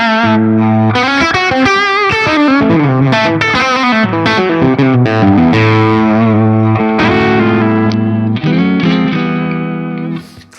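An electric guitar plays through a Laney Lionheart Loudpedal set to low-to-mid gain, with crunchy chords and quick lead lines ringing loud and continuous before the notes fade out.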